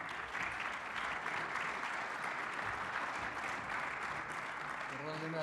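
Audience at the REBS GDL 2022 architecture event applauds a speaker, a steady, full round of clapping that holds evenly, with a voice starting to speak just at the end.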